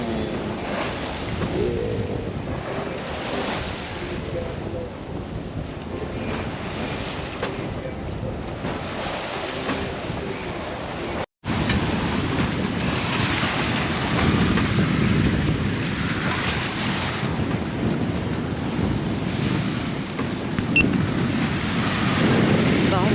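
Sailboat underway at sea on an overnight passage toward Saint-Martin, with continuous wind buffeting and rushing waves, steady and fairly loud, briefly cut by a single dropout midway.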